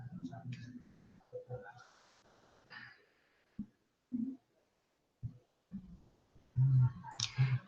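A few soft, brief computer mouse clicks sound close up, spaced among quiet murmured voice sounds and breaths in a hushed room.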